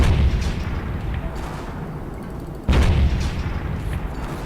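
An overpowered weapon firing and demolition explosions in the Teardown video game, two heavy booming blasts with long rumbling decays, loud and dense with low-end roar.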